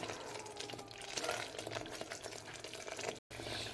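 Masala spices for a pressure-cooker mutton curry frying in oil in a pan, a steady close sizzle with faint stirring scrapes, cut by a brief gap near the end.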